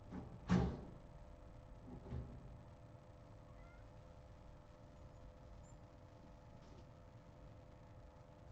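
A cat meows twice indoors, a louder meow first and a softer one shortly after, then only faint background hiss.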